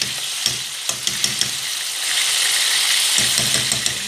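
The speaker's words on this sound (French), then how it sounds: "Je vais laisser mijoter un peu." Food with salt and tomato paste simmering in a pan, a steady close sizzle and bubbling with a few light clicks of a utensil against the pan; no one speaks.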